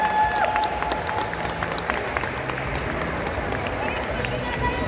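Audience at an international ballroom dance competition applauding in a large hall, a moderate spread of clapping with scattered sharper claps and background crowd murmur and voices mixed in throughout.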